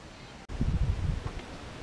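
Gusty wind buffets a microphone outdoors on a cold morning, a low steady rumble that surges loudly after a brief dropout and keeps roaring, with faint rustling on top.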